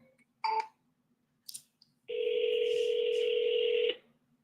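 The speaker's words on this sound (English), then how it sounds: "I'm dialing back." Touch-tone telephone keypad beeps at the start, then a single long steady ringback tone of a phone call being returned, close and clear with no talk over it.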